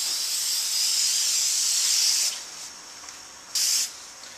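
Spray painting a sculpture mold, an aerosol can hissing loudly in one long continuous burst, then a quieter pause and another short spray.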